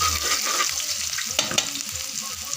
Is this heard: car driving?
no